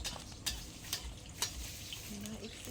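An egg frying in a pan sizzles softly and steadily up close, punctuated by a few spatula taps and scrapes against the pan.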